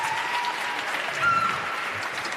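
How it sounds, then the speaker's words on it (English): Steady audience applause at a closing ceremony, a moderately loud, even wash of clapping lasting a couple of seconds. "Just give them a big round of applause."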